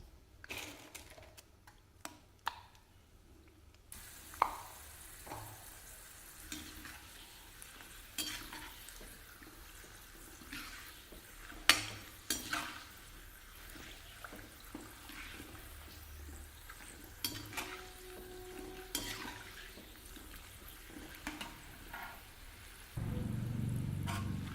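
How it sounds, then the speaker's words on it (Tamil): Sun-dried vathal deep-fries in hot oil with a soft, steady sizzle, broken by scattered clicks and scrapes of stirring. A louder hum comes in at the very end. "இப்போ இதை எண்ணெயில் பொரிச்சுக்கலாங்க"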